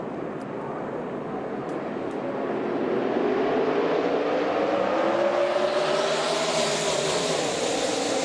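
NASCAR Cup cars accelerate in a pack at a restart of the Coca-Cola 600, engine roar swelling louder and rising in pitch as the field charges toward turn one, no talk over it.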